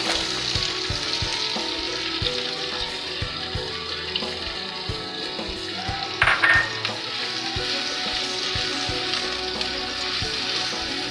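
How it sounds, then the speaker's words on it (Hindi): Chopped onion sautéing in oil for a potato chicken dish, a continuous close crackling sizzle with frequent spatula taps and stirring and a brief louder scrape midway, no talking. "इसको मैं इसमें ऐड कर रही हूँ। ये हल्का सा सौते हो जाए"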